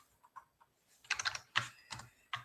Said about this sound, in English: I just got a new keyboard.